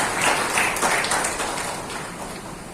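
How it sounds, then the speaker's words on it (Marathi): Audience applause at a public meeting, a burst of clapping that starts strong and gradually fades over a few seconds. "त्याबद्दल त्यांचं सगळ्यांचं एकदा जोरदार टाळ्या वाजवून आपण अभिनंदन करू"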